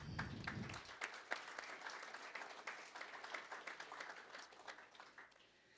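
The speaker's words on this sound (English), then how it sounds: "So please join me in a round of applause for them." An audience at the Lloydminster Chamber Business Awards, held live at Spiros, gives a steady round of applause, many hands clapping together at an even level for several seconds.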